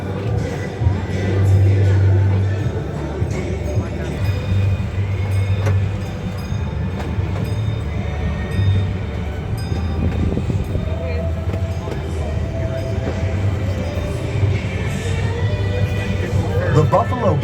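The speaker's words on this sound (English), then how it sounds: "keeping your arms, hands, legs, and head inside the train coach at all times while the train is in motion" Rumbling motion of a small shark-themed amusement train at a downtown aquarium, a steady low drone with faint clatter as it rolls along, while people talk over it.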